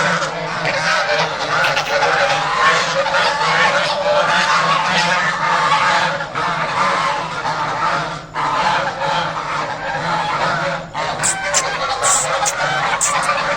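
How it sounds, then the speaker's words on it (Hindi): Ducks or geese honk and quack loudly and continuously in a dense, overlapping chorus with only brief lulls, close and dominant throughout. "बड़ा शोर करती हैं जनाब ये बतखें"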